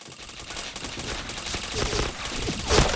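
Rapid bursts of automatic fire from an MK rifle in the shooter game Point Blank crackle densely and continuously, close and loud throughout, with no speech.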